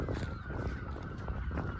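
Outdoor birds calling with honking, goose-like cries repeating over steady broadband background noise, moderately loud and fairly close.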